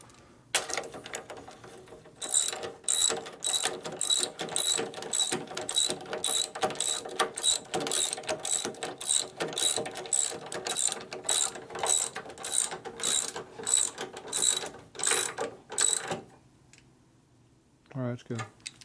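Ratchet tightening a stud on a rebuilt 1965 Harley-Davidson Panhead 74ci FLH motor: a long run of rapid, evenly spaced metallic clicks in steady bursts, close and loud, stopping near the end.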